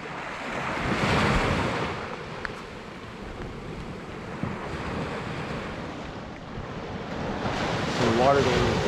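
Ocean waves on Panama City Beach surge and recede in broad swells, mixed with heavy wind buffeting the microphone, loud and continuous throughout.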